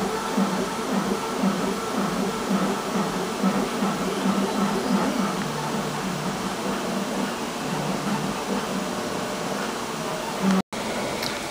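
Rapid prototyping machine building archery bow limbs, giving off a steady loud mechanical whir and hum with faint rhythmic motor tones and a brief cut near the end, with a voice talking over it.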